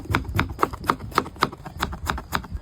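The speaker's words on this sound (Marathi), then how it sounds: "आपण आता टमाटर कट करून घेऊ" A knife chops tomatoes on a board for a mutton hojdi masala, giving roughly ten quick, regular thuds up close in a brisk rhythm, with no voices.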